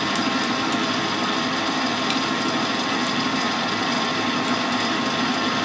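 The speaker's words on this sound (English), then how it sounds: "We'll do a little bit more drilling" A steady, dense machine whir drones without letup from a mill drilling into a collet bushing for a millhead, loud and close, with no talk.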